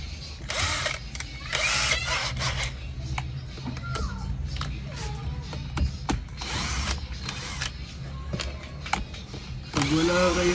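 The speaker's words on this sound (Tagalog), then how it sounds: "Ngayon, tanggalin natin tong dalawang tornilyo." A handheld power drill buzzes in repeated short, loud bursts while backing two screws out of a broken electric fan, with a voice briefly speaking between the bursts nearby.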